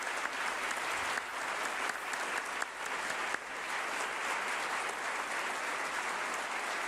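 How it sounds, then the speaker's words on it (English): A room in Ottawa applauds at the swearing-in of Mark Carney as Canada's prime minister: dense, even clapping that holds steady throughout without voices. "A ripple of applause in the room"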